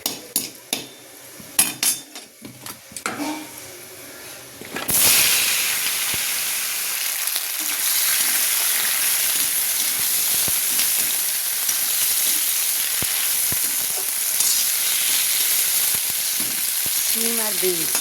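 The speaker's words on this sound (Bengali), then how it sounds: "তেলটা গরম হয়ে গেছে, 5 ফোড়ন দিলাম।" Whole spices hit hot oil for a bean and flat-bean chorchori, bursting into a loud steady sizzle after a few clinks and scrapes, with bubbling frying continuing up close to the end.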